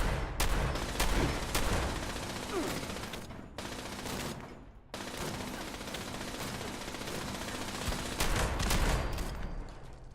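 Sustained rapid gunfire from ranged weapons taking out laser turrets in Fallout 76, dense bursts running almost continuously with two short breaks, loud and close without speech.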